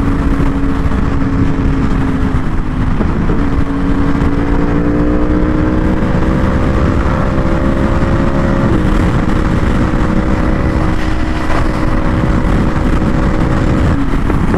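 A Yamaha R1 motorcycle rides through city traffic, its engine a loud, steady drone with several rising harmonic tones that shift pitch through gear changes at about 3 and 9 seconds, close to the microphone throughout.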